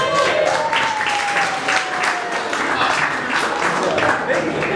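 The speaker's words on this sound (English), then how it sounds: "Big round of applause to George." Guests at a wedding break into a sustained round of applause, a dense, steady roar of many hands clapping nearby with voices mixed in.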